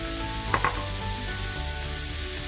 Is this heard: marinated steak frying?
yes